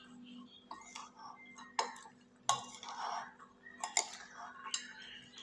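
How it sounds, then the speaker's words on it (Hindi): Sprouts pasta salad with salt is stirred in a bowl, giving intermittent clinks, scrapes and knocks of a utensil against the dish, fairly close and quiet, with short bursts of activity between pauses. "अब इन सबको करेंगे मिक्स।"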